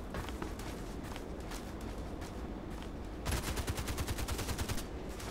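Gunfire in the online shooter Contract Wars crackles in bursts, with scattered shots early and then a rapid automatic volley toward the end, set against busy game background noise.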